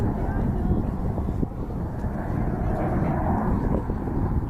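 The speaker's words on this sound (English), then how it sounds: "the aircraft you see them fly today is the BAE Systems Hawk T-Mark 1" Red Arrows BAE Systems Hawk T1 jets fly at an airshow, giving a steady, loud broadband roar throughout with no break, the engine noise dense and continuous as if the aircraft are close.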